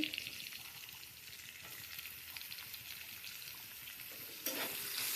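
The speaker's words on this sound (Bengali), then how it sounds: "তেজপাতাটা একটু নেড়ে নিয়ে এবার একটু পেঁয়াজ দিয়ে দিচ্ছি" Onions sizzle in hot oil in a pan with dried red chilli and bay leaf for mutton curry, a steady soft frying hiss with light stirring scrapes and a brief louder burst near the end.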